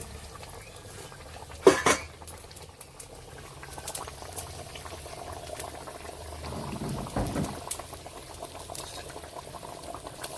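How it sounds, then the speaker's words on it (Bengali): Curry gravy bubbling in a pot over the fire, with fish on the way in, gives a steady low boiling burble throughout, with a couple of sharper clinks near the start and a busier stretch of bubbling later on. "বন্ধুরা তরকারির ঝোলটা ফুটে গেছে"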